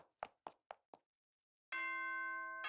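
A video game announcement chime rings out as a sustained bright tonal ding after a few quick knocking taps, then a second chime begins.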